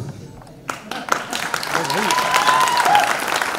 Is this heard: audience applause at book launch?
yes